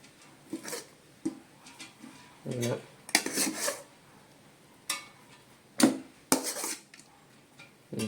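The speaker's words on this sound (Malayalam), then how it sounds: "റെഡിയാക്കി വെച്ച റൈസ് ഇതിലോട്ട് ഇടുകയാണ്" Prepared rice being tipped into a pot while layering an Onam dum biryani at home, with scattered clinks and scrapes of metal utensils against the pot and a few louder knocks, separated by short quiet gaps.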